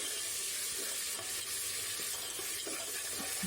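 Ginger-garlic paste frying in a pot for beef biryani gives a steady, moderate sizzle throughout, with faint stirring scrapes now and then and no voices.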